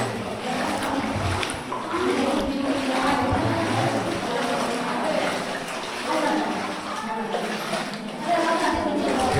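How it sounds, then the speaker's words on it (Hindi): Wading through water inside a cave brings continuous sloshing and splashing, close and echoing, beneath intermittent talking. "पानी के अंदर चलना होता है"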